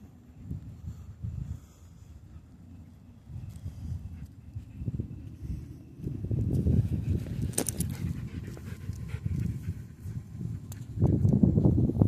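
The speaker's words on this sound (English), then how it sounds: "Yes, there is a pretty dog." A dog pants close by in quick, rhythmic bursts of breath, softer at first and growing louder and more rapid toward the end, with no talking.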